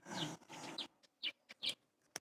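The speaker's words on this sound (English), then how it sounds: "These birds are loud. They're very vocal." Loud birds calling nearby, a dense burst of harsh chattering calls at first, then several short separate chirps spaced out with quiet gaps between them.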